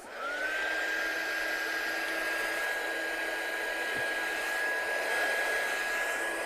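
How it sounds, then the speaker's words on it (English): A heat embossing gun blows hot air in a steady, loud whirring rush with a high motor whine, running continuously after a quick spin-up, with one faint tap midway. "so I'm just going to heat emboss this now. So make sure my gun's on and hot enough."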